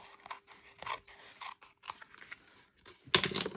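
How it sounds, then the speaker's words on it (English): Scissors snip through cotton paper to trim away exposed glue along the top edge, a series of short, close crisp cuts with quiet gaps between, ending in a louder final snip. "I'm actually going to cut that off because I don't want that to go through my machine"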